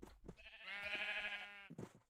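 Sheep in the Minecraft video game let out a single sustained bleat, loud and close, standing alone with a few short game sounds before and after.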